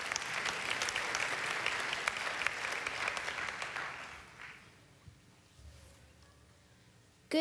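Applause from a pageant audience at the 2017 Miss Strassenfest Pageant fills the first four seconds, then fades to near quiet before a sudden bump at the very end.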